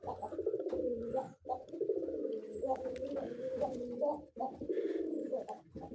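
Pigeons cooing steadily at dawn on a foggy morning, soft repeated coos close by with faint chirps of other birds in the background.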